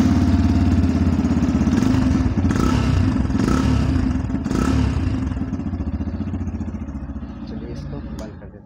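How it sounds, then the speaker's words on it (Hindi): Exhaust note of a 2023 Yamaha FZ-S V4 motorcycle running close by, a loud, steady low thump with a few sharp revs that gradually fades toward the end, with someone speaking over it. "चलिए आपको एग्जॉस्ट नोट सुनाते हैं गाड़ी का"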